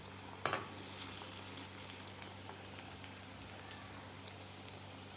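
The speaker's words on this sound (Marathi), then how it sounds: "आपल्याला एक क्रिस्पी होईपर्यंत आपल्याला तळून घ्यायचं आहे मीडियम गॅसवर" Potato bread rolls fry in oil on a medium gas flame, giving a faint steady sizzle and bubbling hiss with a soft clatter near the start, with no talking.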